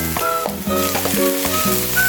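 Garlic, onion and tomato sizzle loudly in a hot pan, a dense continuous frying hiss with tonal scraping strokes from stirring recurring in a quick rhythm.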